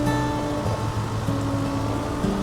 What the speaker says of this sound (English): It's pouring down rain here at the beginning of November